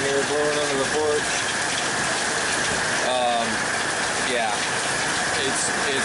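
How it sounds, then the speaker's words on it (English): Heavy rainstorm heard from under an outdoor porch, a loud steady roar of rain pouring down without letup, with a voice talking over it now and then. "It's storming, guys"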